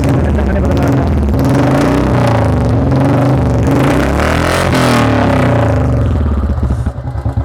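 Royal Enfield Classic 350 (Bullet) motorcycle engine running loud and steady with a deep, thumping idle-like rumble throughout, easing off slightly at the end.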